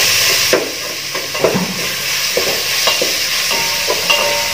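Onions and green chillies fry in a pan for beef biryani, giving a loud, steady sizzle close by, broken by several scraping stirs of a spoon.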